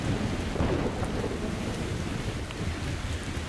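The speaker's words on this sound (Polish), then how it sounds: "Burza, burza i po burzy za chwilę będzie." Thunderstorm in the video game Metro Exodus, with a steady roar of rain and wind and low rumbling thunder filling the whole stretch at a constant, fairly loud level, with no voices.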